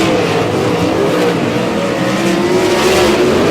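Sprint cars racing flat out in a heat race at Humboldt Speedway, a steady loud roar of engines with continuous wavering whine and no pauses.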